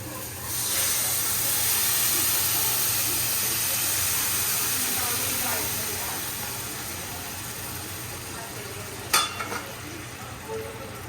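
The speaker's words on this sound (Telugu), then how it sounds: "చూడండి నీళ్ళు చక్కగా ఇలా మరుగుతుంటే" A steady hiss and bubbling of water boiling in a pan, close by, with a few clinks near the end.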